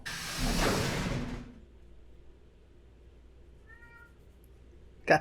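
A house cat meows loudly and close at a closed door, one drawn-out plaintive call fading into quiet room tone, then a brief faint chirp and a sharp knock or bump at the end.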